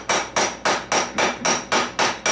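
A small hammer strikes metal on a 2002 Yamaha Blaster ATV with a broken engine case, giving nine sharp, evenly spaced blows in quick succession, loud and close with no talking.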